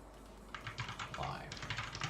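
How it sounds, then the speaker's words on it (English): Computer keyboard typing during a live stream, a quiet run of rapid clicks starting about halfway through and continuing in bursts over a steady background hum. "I need to stop typing during streaming because the keyboard is probably very loud"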